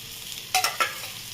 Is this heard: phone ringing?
no